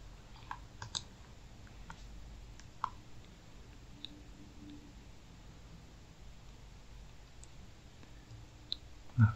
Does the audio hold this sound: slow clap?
no